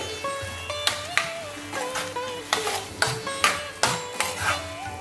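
Crispy soybean chilli mixture stirred in a pan: a spoon clatters and scrapes against metal in a rhythmic series of sharp knocks over a soft sizzle, with a faint ringing tone in the background.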